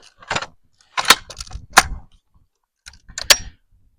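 Metal parts of a PKM machine gun clicking and clacking as they are reassembled after cleaning, a few sharp close knocks and snaps in separate bursts.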